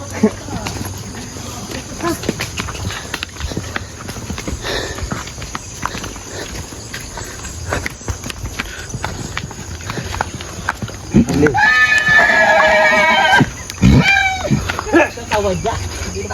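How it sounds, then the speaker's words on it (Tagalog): Horse hooves clip-clop at an outdoor rural spot, with insects and crickets chirping and people talking over the scene. The steps come irregularly and a louder burst arrives near the end. "Ito yung kabayo eh."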